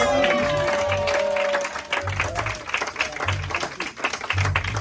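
A church congregation claps and cheers for Jesus Christ, a dense, loud, continuous wash of applause from a crowd with rhythmic clapping throughout.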